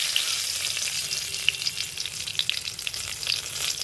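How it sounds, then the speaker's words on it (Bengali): Whole cumin, cloves, black peppercorns, cinnamon, cardamom and bay leaf frying in hot oil in a pan, a steady close hiss with scattered crackles and pops throughout, no voices. "তেল গরম হয়ে গেছে, এতে কিছু আমি গোটা মশলা দিয়ে দেবো।"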